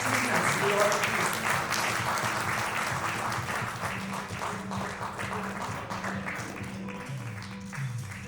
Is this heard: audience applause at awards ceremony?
yes